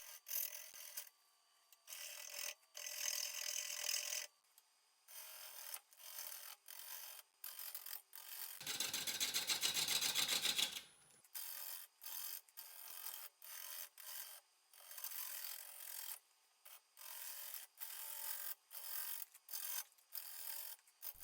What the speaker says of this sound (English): here I'm just scraping.